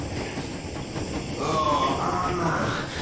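A steam locomotive from the video game Metro Exodus rolls along with continuous hissing steam and rail rumble, swelling a little louder midway, steady and close with no clear speech.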